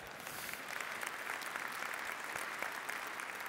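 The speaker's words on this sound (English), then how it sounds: "Give him a round of applause for that one." An audience at a public talk applauds in a brief, dense burst of even, continuous clapping heard from a distance.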